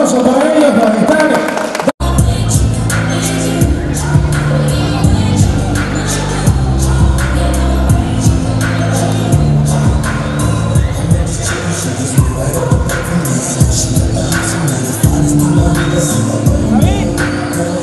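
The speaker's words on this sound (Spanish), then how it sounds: "fuertes los aplausos para ellos" A boxing match crowd cheers and claps after a round, a dense, loud roar of applause and shouting that continues steadily after a sharp bang near the start.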